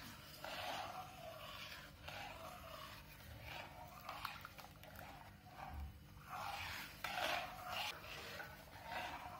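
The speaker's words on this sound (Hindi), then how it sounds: "और इसे कुछ देर तक इस तरह से ही चलाते रहें जब तक कि ये अच्छे से बॉईल ना हो जाए" A spoon or spatula scrapes and swirls through a mango phirni milk mixture in a pan, giving a continuous soft rasping stir with uneven swells over a faint background hum.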